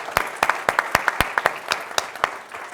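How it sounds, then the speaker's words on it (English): Clapping from an entrepreneurship talk audience in New Orleans, a handful of distinct, sharp claps in an irregular rhythm, close and clear over a quiet room. "So round of applause for Ashley."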